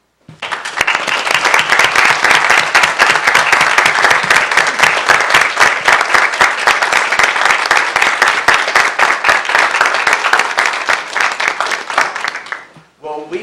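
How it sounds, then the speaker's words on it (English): City council meeting audience gives a long, loud round of applause for standing veterans, dense sustained clapping that runs steadily for over ten seconds before tapering off abruptly. "if you would please rise at this time for a round of applause"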